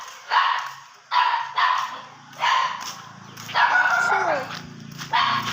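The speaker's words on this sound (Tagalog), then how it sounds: "Huwag na pansinin yung mga aso, guys. Maingay talaga yan kung may pagkain." Several dogs bark in repeated loud, sharp bursts nearby, excited around food, with a yip and a whine among them and faint background noise between barks.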